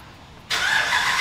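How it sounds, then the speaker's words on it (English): Supercharged RAM 1500 4x4 pickup engine starting: a quiet lull, then the engine abruptly catches and settles into a loud, steady idle close by. "we're gonna fire the truck up."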